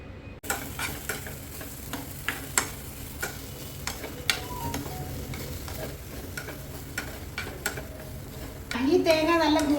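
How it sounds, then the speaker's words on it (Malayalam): Grated coconut with cumin, a piece of onion and curry leaves dry-roasts in a pan, stirred constantly: repeated scraping and ticking spoon strokes over a low crackle, with a brief louder clatter near the end. "തേങ്ങ കരിഞ്ഞു പോകാതെ ഇളക്കിക്കൊണ്ടിരിക്കണം"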